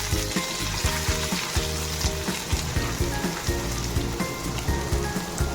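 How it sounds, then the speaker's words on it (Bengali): Chopped ginger fries in a pan over a low flame, a dense crackling sizzle close up with soft stirring knocks scattered throughout and no talk. "আদাটাকে প্রথমে একটু ভেজে নিচ্ছি।"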